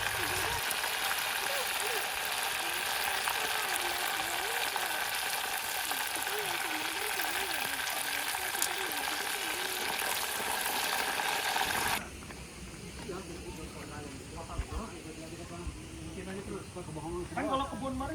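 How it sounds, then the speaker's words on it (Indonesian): Chicken fries in oil at a riverside family campground in Bandung, West Java, a steady dense sizzle and crackle heard close up for about twelve seconds before the sound drops to quieter crackling and clinks, with speech present. "Goreng ayam untuk makan siang atau bisa jadi bekal untuk di jalan nanti."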